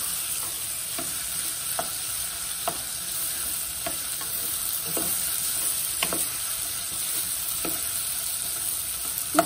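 Ingredients for baghali khoresht, a Persian stew with kidney beans, frying in a pan, a steady moderate sizzle broken by regular scrapes of a spoon every second or so.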